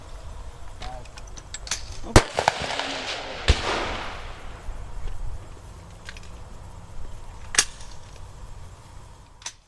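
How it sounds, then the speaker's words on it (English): A highpower rifle fired during a competition course of fire, heard as a couple of sharp, loud reports echoing across an open range, with softer distant shots and faint background noise between them. "The rifle is fired and the target is pulled down for scoring."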